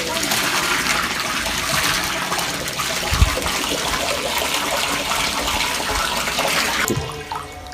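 Water pouring steadily into a backyard fishpond during a water change, a close, continuous splashing rush with one brief thump before it cuts off near the end.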